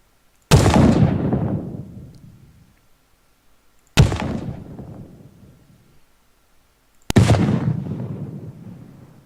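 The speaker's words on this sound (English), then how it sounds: "This is the impact sound." Spell impact sound effect from an RPG game spell template, three loud, booming explosive blasts spaced a few seconds apart, each struck sharply and then rumbling away over about two seconds.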